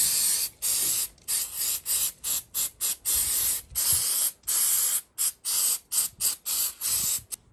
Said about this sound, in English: I'm just going to give it a spray off with some brake cleaner